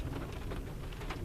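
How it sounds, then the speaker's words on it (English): Rain and hail fall steadily outdoors in Yosemite during camp cooking, a dense close patter with scattered sharper impacts, with no voices. "We're in the rain."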